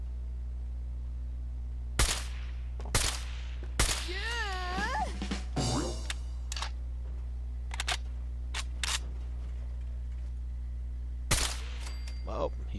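Several sharp gunshots from the DKS-501 sniper rifle in Fallout 4, spaced irregularly with a couple close together, each a loud crack with a brief tail over a steady low hum, plus some faint game sounds between shots.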